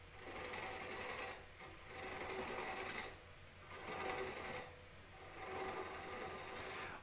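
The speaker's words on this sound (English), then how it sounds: "I'm just going to nibble down again with push cuts towards the headstock and create a new tenon." A wood lathe makes push cuts on Eastern Red Cedar, the tool hissing against the spinning wood in four separate bursts of a few seconds each over a steady low motor hum, with no talk.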